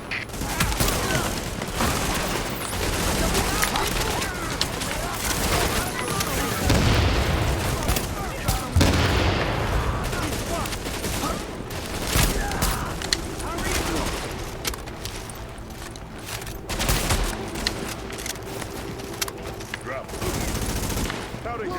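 Heavy gunfire and booming blasts fill a firefight in the video game The Division, with dense bursts and explosions running throughout under intermittent game voices.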